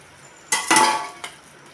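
Soybean chunks are mixed by hand with egg, gram flour and flour in a bowl, giving a few brief clattering, squelching bursts against the dish, with a short clink near the end and quiet between.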